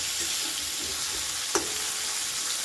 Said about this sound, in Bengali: এবার আমি এর মধ্যে দিয়ে দিলাম কেটে রাখা টমেটো টমেটোটা দিয়েও একটু নাড়াচাড়া করে নেব